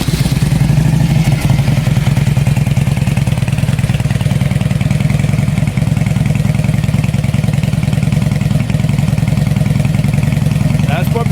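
A 1999 Harley-Davidson Road King's engine runs steadily up close with a loud, continuous low rumble and throb that holds an even pace throughout, without pauses.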